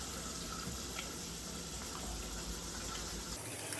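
Tap water runs steadily into a sink as hands are rinsed, a continuous close gushing hiss with no talk over it.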